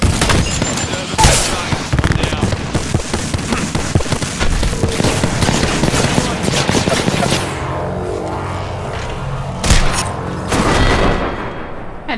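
Rapid automatic gunfire and scattered shots from the battle royale video game Apex Legends, loud and dense for most of the stretch, thinning near the end with a few separate bursts, with a voice talking faintly underneath.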